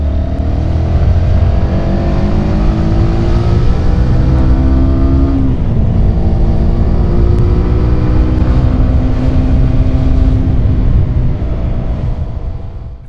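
A steady engine drone with shifting harmonics runs throughout as a 2022 Sinnis SM-R 125cc liquid-cooled supermoto motorcycle cruises at a constant pace, loud and close, with no talking.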